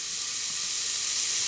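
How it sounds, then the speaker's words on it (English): Finely chopped onions fry in a pan, giving a steady, dense sizzle that holds even and close throughout, with no voices over it. "So I'm just going to fry these onions now until they start to become translucent and clear"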